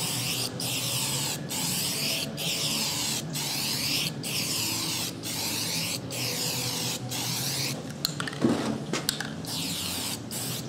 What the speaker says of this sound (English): So let's have a look how good this spray paint is.